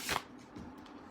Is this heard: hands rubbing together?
no